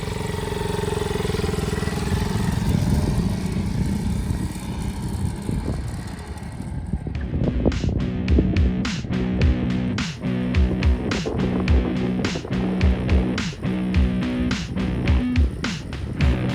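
A Honda Monkey motorcycle fitted with a homemade side cart idles and then pulls away, its small engine revving in rhythmic bursts as it rides off.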